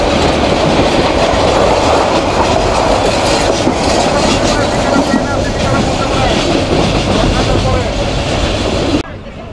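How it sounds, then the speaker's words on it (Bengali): A passenger train pulls out of Dhaka Airport station, recorded on board as a loud, steady rumble with rhythmic clickety-clack of wheels over the rails, muffled voices underneath, then a sudden drop in level near the end. "এই যে আমাদের ট্রেন এই মুহূর্তে বিমানবন্দর স্টেশন সাইডে চলে যাচ্ছে।"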